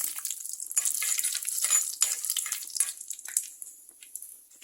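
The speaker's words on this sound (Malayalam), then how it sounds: "കടുക് നന്നായിട്ട് പൊട്ടി വരുമ്പോൾ രണ്ടൊന്ന് വറ്റൽമുളക് ഇട്ട് കൊടുക്കുക" Mustard seeds and dried red chillies spluttering in hot oil, a dense crackling hiss with sharp pops that rise then gradually thin out toward the end, close and alone with no talk.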